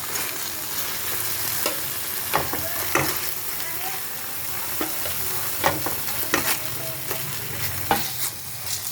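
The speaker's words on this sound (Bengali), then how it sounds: "এখন আমি তেলের মধ্যে মাছটা ছেড়ে দেবো" Fish sizzling in hot oil with spices in a pan, a steady frying hiss broken by sharp crackles and stirring clatter, close and fairly loud with no talk.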